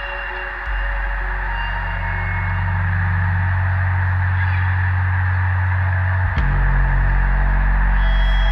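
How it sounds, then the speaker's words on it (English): Large flocks of snow geese and speckle-bellied geese in the Central Flyway, a dense, constant wash of honking calls under a heavy low rumble, steady and loud throughout with no voices. "it's just full of snow geese and speckle bellies."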